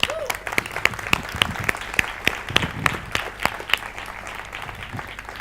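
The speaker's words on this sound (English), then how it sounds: "So join me in applauding." Applause from a conference audience at a startup event opening, a dense run of individual claps at a steady pace that carries on evenly throughout, fairly close and with no speech over it.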